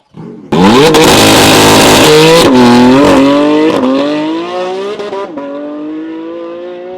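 A Porsche GT4 RS screams past in a loud, close flyby, its engine revving hard through rising pitch sweeps and gear changes before fading to a lower drone as it pulls away.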